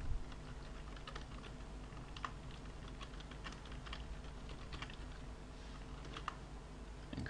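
Rapid, uneven keystrokes on a computer keyboard as a website name is entered into a design program, a close, quiet patter of clicks with short pauses and no voices.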